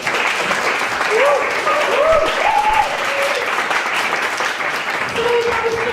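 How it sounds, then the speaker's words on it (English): Audience at a stand-up comedy show breaking into applause, a dense sustained clatter of many hands filling the room, with cheers and a voice rising above it now and then. "So that was the first round of applause."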